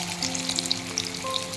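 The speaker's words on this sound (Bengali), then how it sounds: "কোপ্তাগুলোর এক পিঠ ভাজা হয়ে গেছে" Vegetable koftas frying in a pan of hot oil give a steady, close sizzle with crackling spatters throughout and no talking.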